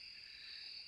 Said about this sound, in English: The sounds of day have now switched to crickets and various sounds of the